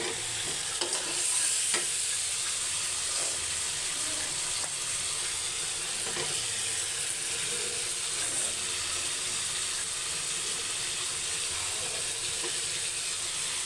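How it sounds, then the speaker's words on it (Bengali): Pieces of bottle gourd and potato hit a hot pan and sizzle steadily for a long stretch, with a few scraping and clinking stirring sounds near the start, close and continuous with no talking. "লাউটা আর আলু আগে কেটে রেখেছিলাম, এখন আমি এটা এর মধ্যে দিয়ে দেবো"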